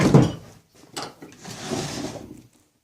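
Wooden drawer in a home workshop holding milling cutters being slid open or shut, a loud knock at the start followed by a couple of softer sliding rumbles, close by with no talk.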